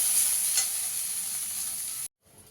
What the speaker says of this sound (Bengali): একটু লাল করে ভেজে নিতে হবে।